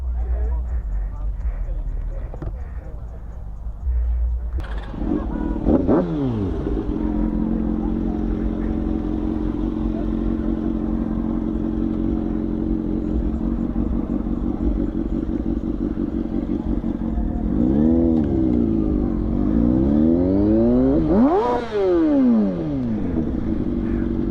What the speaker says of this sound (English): Oh yes, more bikes.